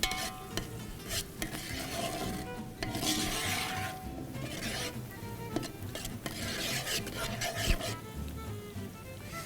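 Ground coriander, garam masala and other spices frying and being stirred in a pan for prawn biryani, a steady scraping, rasping stir with soft sizzle and rhythmic spoon strokes throughout.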